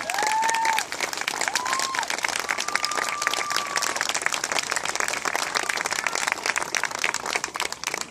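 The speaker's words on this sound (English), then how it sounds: "How about giving them a round of applause?" A crowd at the WWII close assault re-enactment at Camp Mabry applauds veterans with brisk, continuous clapping, a few whistles and cheers rising in the first seconds before the clapping carries on alone.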